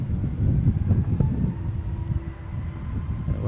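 Airliner rolling along the runway at Amsterdam Schiphol airport, a steady low rumble of rolling and engine noise that rises and settles, heard from some distance with no voices.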